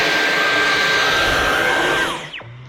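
Dyson V11 cordless stick vacuum running on high power, a loud steady whine with a constant high tone held for about two seconds, then spinning down and dropping off sharply at the end.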